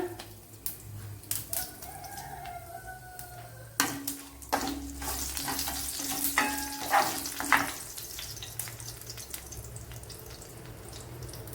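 Hot coconut oil sizzles steadily with scattered crackling pops as mustard seeds and dried red chilies fry, broken by a few scraping stirs of the pan.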